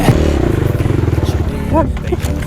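An enduro motorcycle engine revs loud and close as it pushes through mud, its pulsing rumble steady and throbbing, with brief clatter and a rider's voice mixed in.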